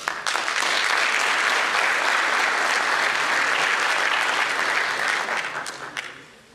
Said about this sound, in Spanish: Nuestra bienvenida y el aplauso para él.